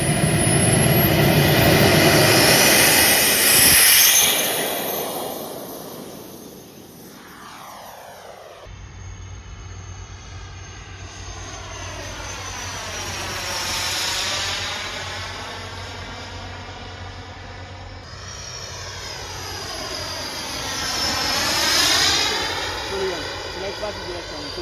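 A Tomjets X 130 model jet powered by a Xicoy 132 turbine flies overhead, its loud whining turbine roar sweeping up and down in pitch over repeated passes, near then fading, then approaching again.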